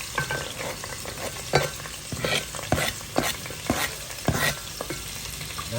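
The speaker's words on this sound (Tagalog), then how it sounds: "Nagigisa si amiga dito sa rice cooker." Chopped onions sautéing in a rice cooker, a steady sizzle broken by a series of sharp clanks and scrapes of a spoon stirring against the pot, close and moderately loud, with no talking.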